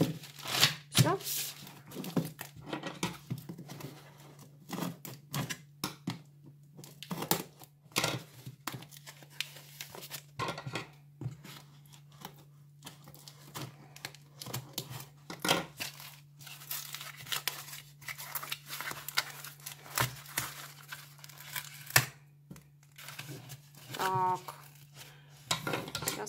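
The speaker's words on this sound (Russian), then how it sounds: "Сейчас мы его как-то раскроем и посмотрим, что внутри." A small parcel of craft supplies is torn open and unpacked by hand, giving a long run of close, sharp crinkling and ripping bursts of plastic wrapping with a steady low hum underneath, and a person speaks now and then.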